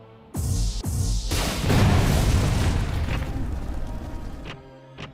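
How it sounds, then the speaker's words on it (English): An energy cannon in a Transformers animation fires with two sharp blasts and then a heavy, rumbling explosion that swells and slowly decays, ending with a couple of brief crackling bursts. "Cannon is fully charged and ready on your mark. Fire!"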